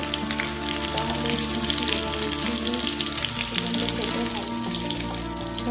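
Chicken pieces frying in hot oil for spicy chilli chicken, a steady dense sizzle and crackle close to the pan that carries on evenly throughout.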